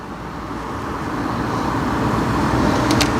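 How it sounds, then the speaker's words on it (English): A Dodge Charger V8 drives on a sprint course, a steady broadband engine and road rumble that builds gradually in loudness, with no talk over it. "Oh, such a nice sounding V8."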